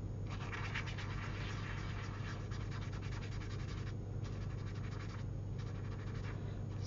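Jane Davenport Mermaid marker in the Seashell shade being coloured across paper, producing a steady, close, continuous scratchy felt-tip rubbing with brief pauses between strokes, heard alone without talk.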